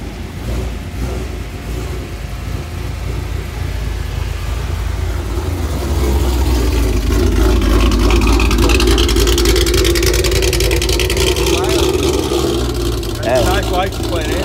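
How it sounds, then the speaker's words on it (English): At an after-storm car meet, a car rolls in and its engine rumble grows louder and fuller midway, while people chat nearby over the approaching noise. "All right, we got a car coming here."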